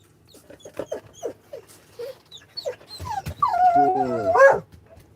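A dog gives a run of short yips and whimpers, then breaks into louder, strained whining barks, close by and without talk over it.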